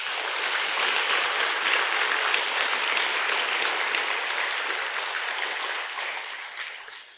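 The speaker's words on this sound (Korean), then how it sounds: "박수를 좀 보내드리겠습니다" Sustained audience applause at a year-end Buddhist dharma service in a temple hall, steady dense clapping for a choir and performers that holds evenly, then thins and fades out at the end.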